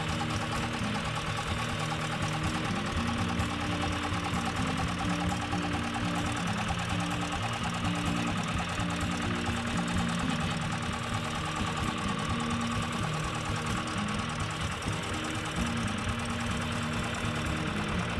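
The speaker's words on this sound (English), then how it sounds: "Listen to that diesel engine." An old 50-year-old diesel tractor on a cranberry farm idles with a steady, knocking chug, loud and close, its rhythm unchanged for the whole stretch and no voices over it.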